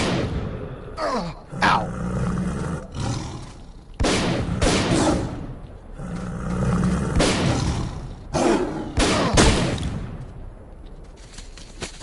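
Snork mutants attack in STALKER: Call of Pripyat, set in the Pripyat region of Ukraine, with repeated loud bursts of growling and gunfire-like blasts over a steady game ambience, and a man briefly crying out.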